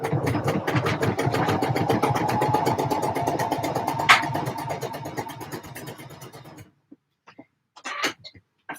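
A sewing machine stitches a t-shirt with a rapid, even mechanical chatter that runs for several seconds then stops, followed by a couple of brief clicks in near silence.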